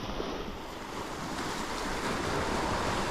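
Heavy rain pouring steadily outdoors on the water during a bass fishing trip, a loud, constant broadband hiss with gusty wind noise and no voices.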